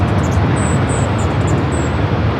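A jet airliner at LAX rolls down runway 24 left, producing a loud, continuous broadband roar with steady low rumble from a distance, with no talk over it.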